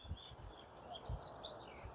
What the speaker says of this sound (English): I'm sure you can hear a lot of those birds through my microphone.